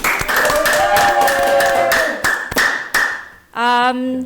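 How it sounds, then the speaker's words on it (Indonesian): Studio audience and hosts clap on a podcast set, a burst of crisp, loud claps that thins into a few scattered, separate hand claps before a voice begins speaking. "tepuk tangan dulu dong"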